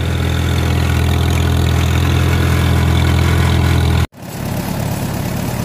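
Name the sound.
tractor engine idling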